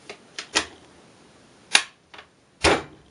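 An AK rifle dust cover is fitted onto the receiver with several sharp metallic clicks and clacks in an irregular sequence, close and distinct against a quiet background.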